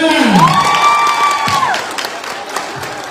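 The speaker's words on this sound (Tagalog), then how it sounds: "Pumalakpak ang mga gutom na!" A crowd at a child abuse awareness orientation claps and cheers loudly, with whoops and children's shouts rising over the applause and a brief tonal swoop near the start.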